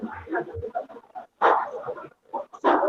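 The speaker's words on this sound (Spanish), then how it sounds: "esto por la particularidad de mi compañía, que es una perrita" Small female dog barking in several short bursts, close and fairly loud, with brief pauses between yaps and no talking over it.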